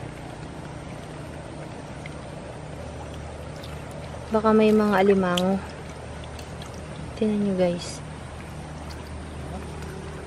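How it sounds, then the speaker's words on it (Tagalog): Spring water flows strongly out of the ground beside a river in the countryside, a steady rushing wash that continues beneath a voice speaking in two short bursts. "Malakas ang tubig dito sa tabi ng ilog. May bukal."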